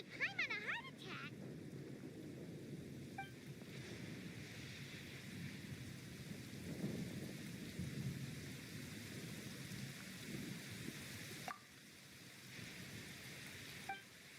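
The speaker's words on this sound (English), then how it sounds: "what was with that thunder just now?" Thunder in the video game Genshin Impact, a low rumbling roll under a rain-like wash, with a couple of sharper cracks near the end and no talking.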